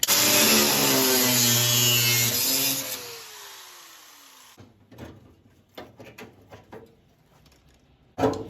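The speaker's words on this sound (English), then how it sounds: "I'm using my electric grinder because, you know, instead of having the compressor continuously turning on all day, it's just going to be using a lot of air" An electric grinder working on rusty car body metal of a 1969 Road Runner rocker panel, a loud whirring grind that winds down and fades, followed by scattered clanks and scraping close by.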